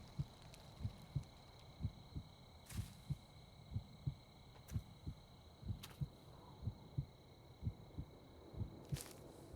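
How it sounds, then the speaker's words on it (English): A steady, rhythmic heartbeat thumps in paired beats inside a horror video game set in a cursed forest, low and close, with faint high tones and occasional clicks over a quiet background. "Why is my heartbeat going?"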